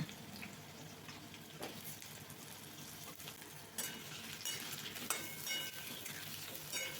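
Potatoes frying in a pan for a pumpkin-greens chachchari, a steady close sizzle with stirring clatter and a few sharper scrapes of the spatula, no voices.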